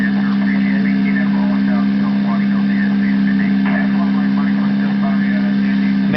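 A steady engine drone from an airplane at high throttle in a flight simulator game, continuous and even throughout, with a voice talking over it.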